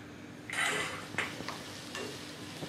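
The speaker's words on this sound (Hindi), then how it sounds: "घी गर्म हो चुका है हम इसमें एक छोटी प्याज डालेंगे स्लाइस करके" Sliced onion drops into hot ghee in a kadai, giving a soft hissing sizzle with a few stirring scrapes, fairly faint and close.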